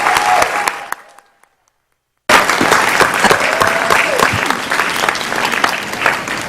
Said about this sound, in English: Let's applaud for our Parents of the Year.